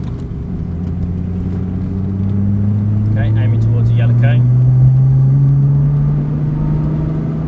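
A Nissan GT-R on the Dunsfold Park track drones steadily up close, its engine note climbing in pitch as it gathers speed under power, with someone talking over it throughout.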